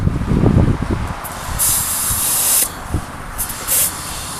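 Compressed air hisses into bald, flat tires on an old Ford V8 car, loud close bursts of spraying air that start and stop several times, alone without speech.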